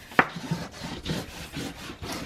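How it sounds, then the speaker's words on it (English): Paper on a mini album cover being burnished with firm, repeated rubbing strokes, a close dry scraping that swells and fades in a steady back-and-forth rhythm with one sharper initial scrape. "And I'm going to give it a good burnish."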